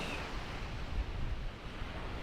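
Steady, broad rushing wind at Lara beach in Antalya, blustery against the microphone, with a soft surf wash underneath and no voices.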